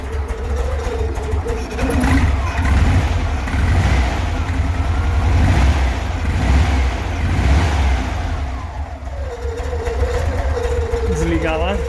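A Volkswagen Beetle (Fusca) engine with a cold motor and a Chinese-made distributor runs steadily close by, its revs rising and falling in waves, while someone talks over it.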